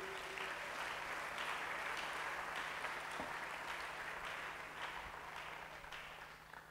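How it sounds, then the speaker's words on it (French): A church congregation applauds together during a Pentecost service. The clapping is dense and continuous and fades slightly toward the end. "Acclamons pour la parole de Dieu."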